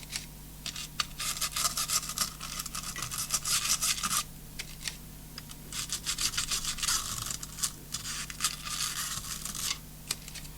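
A stiff, coarse paintbrush dipped in isopropyl alcohol scrubs hard across a Gigabyte GA-H110M Gaming 3 motherboard, in close, rapid, bristly strokes that come in bursts with short pauses between them, and no one speaks.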